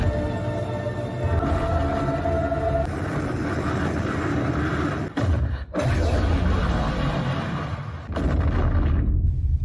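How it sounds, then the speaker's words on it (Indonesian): A loud, sustained roar of explosive rumbling with heavy booming low end, continuing for several seconds with a brief dip before surging again, from a Godzilla film explosion after atomic breath hits a tank. "Godzilla mengeluarkan napas atomnya ke arah tank hingga menciptakan ledakan besar"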